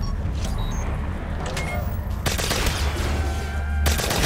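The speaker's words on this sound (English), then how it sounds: "Can't walk through three burst fire," Rapid three-round bursts of gunfire crackle over a steady low rumble in Black Ops 3 Zombies, with a sharp volley partway through and another near the end.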